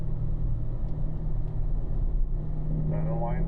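Corvette engine on a race track, a steady low rumble with a rising tone near the end as it pulls up through the gears into fourth, heard from inside the car.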